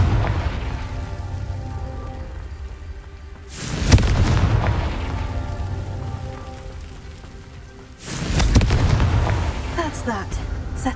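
Two deep booming blasts from the Confringo spell in Hogwarts Legacy, each a loud low explosion with a rumbling tail, several seconds apart over quieter game ambience.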